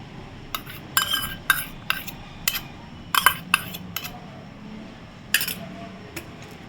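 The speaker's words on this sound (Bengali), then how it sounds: "2টো ডিম নিয়ে এরকম ফেটিয়ে নিয়েছি, এটা আমি এবারে এর মধ্যে মিশিয়ে দেবো।" Beaten eggs being mixed into mango cake batter, heard as a run of close, irregular clinks and taps of a utensil against a bowl over a quiet background.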